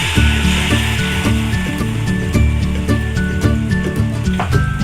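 Ground roasted garam masala hits hot oil in a Malvani crab masala tempering, bringing a continuous loud sizzle and frying crackle with rhythmic stirring scrapes throughout.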